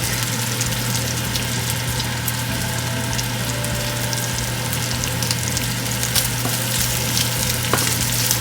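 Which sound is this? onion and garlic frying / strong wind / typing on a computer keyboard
onion and garlic frying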